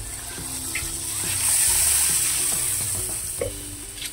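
Coconut milk poured into simmering mixed seafood in a Filipino dish: a steady gushing liquid pour swells over a soft bubbling sizzle, with occasional light stirring knocks and no talk.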